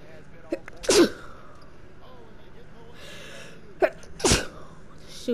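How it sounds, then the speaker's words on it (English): A single sharp human sneeze bursts out loudly, followed a few seconds later by a second sneeze-like burst, with faint speech murmuring and quiet game sounds in the background. "I had the freaking sneeze"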